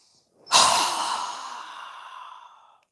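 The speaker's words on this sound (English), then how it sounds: "strong breath with our mouth open wide" A strong exhale through a wide open mouth during a yoga breathing exercise, one long, close breathy rush that starts abruptly and slowly fades over about two seconds.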